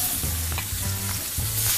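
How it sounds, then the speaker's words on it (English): Thick pieces seasoned heavily with salt and a blend of fennel seed, white peppercorns and cumin fry in a pan, giving a steady, close sizzle with stirring scrapes and no talking. "That's that sizzle we love, John."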